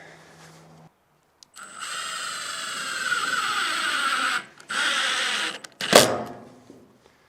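A cordless impact driver sinks screws into wood on an outdoor mountain cabin build in wet, cold weather, with two loud sustained bursts of whirring and hammering followed by a sharp final clack, close to the listener and free of talk.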